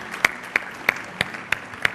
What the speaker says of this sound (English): Round of applause for Glenn.